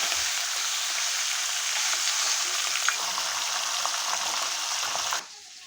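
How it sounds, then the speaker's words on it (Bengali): Pieces of catla fish and a fish head fry in hot oil with a loud, steady, crackling sizzle close by, which drops away abruptly near the end. "এখন মাছের মাথা আর মাছটাকে আমি ভেজে নেব।"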